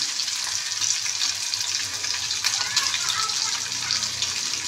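Steady sizzling and crackling of fish frying in hot oil, a constant bright hiss that carries through the whole stretch.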